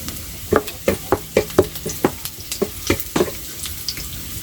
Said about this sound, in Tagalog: tapos na nga yung aking bawang at sibuyas. Luto na.